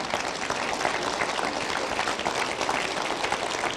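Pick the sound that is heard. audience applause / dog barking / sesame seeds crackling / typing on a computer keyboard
audience applause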